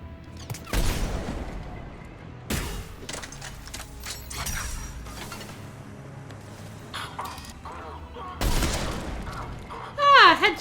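Weapon fire in the shooter Mass Effect 3: a few loud, separated shots with mechanical clicks and clatter between them, ending in a heavy burst, all over steady game ambience.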